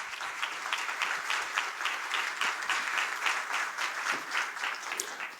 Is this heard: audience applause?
yes